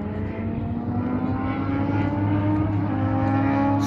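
A motorbike engine drones steadily while riding along, a continuous harmonic hum with wind noise that swells slightly as speed builds, heard close and without talk.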